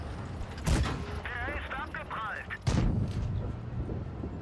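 Panther/M10 tank gun firing in a video game, two heavy booming shots about two seconds apart over a rumbling battle background, with a voice talking in between.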